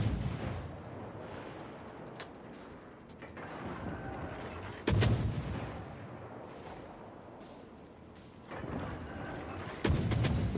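Naval gunfire from a Tier V Russian destroyer, the Gremyashchy, booms in World of Warships. Sharp salvos hit at intervals of about five seconds, each with a rolling rumble and a fading tail, while the ocean battle drones on underneath.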